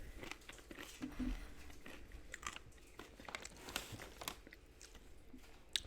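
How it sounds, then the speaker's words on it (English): Tortilla chips from a Chipotle meal being crunched and chewed close up, with repeated irregular bites and crinkly crunches continuing steadily with no talking. "It's about to get crunchy. Watch out."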